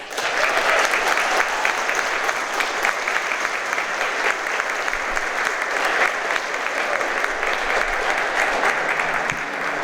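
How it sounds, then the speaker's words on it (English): Sustained, loud applause from a standing audience at a police department's annual service awards ceremony, honoring the police chief, a dense and even roar of clapping lasting about ten seconds. "please let's give a warm round of applause for our Chief, Kevin Roberts"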